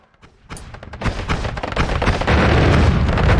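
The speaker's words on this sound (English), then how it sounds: "Glad none of those explosions are right on top of me." Explosions in the pixel-physics video game Noita boom and crackle in a rapid series of bursts that start faint and grow into a dense, loud roar of blasts.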